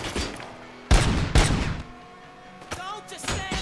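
Gunfire in the video game RoboCop: Rogue City, set during a prison break, comes as loud, heavy shot bursts separated by short pauses, with a brief shouted voice near the end.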